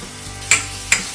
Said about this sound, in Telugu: ఉల్లిపాయలు కొంచెం బాగా ఫ్రై అవ్వాలి.